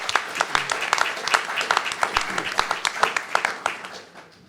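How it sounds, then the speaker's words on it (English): An audience at a farming conference claps in applause, a dense patter of many hands sustained for several seconds before thinning out. "So a round of applause for Lisa as well, please."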